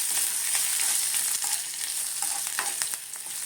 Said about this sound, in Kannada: ಸ್ವಲ್ಪ ಕರಿಬೇವು, 2 ಒಣಗಿದ ಮೆಣಸಿನ್ಕಾಯಿ ಪೀಸ್ ಮಾಡ್ಕೊಂಡಿರೋದು ಇಷ್ಟು ಫ್ರೈ ಮಾಡ್ಕೊಳ್ಳೋಣ